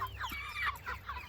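Broiler chickens cluck in a movable pasture tractor on grass, a quick run of soft, overlapping clucks heard close but fairly quiet over a low outdoor rumble.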